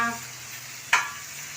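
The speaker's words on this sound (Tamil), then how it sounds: "பூண்டு, மிளகாய் போட்டு ஒரு சட்னி அரைப்போட்டு வதக்கிட்டு இருக்கேம்மா" Garlic and chilies for chutney sautéing on a dosa griddle give a steady low sizzle with a brief louder stir or scrape near the middle, close and alone.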